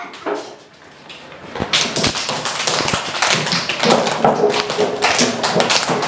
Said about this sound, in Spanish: A ver, un aplauso de boxeador para el grupo Abeja.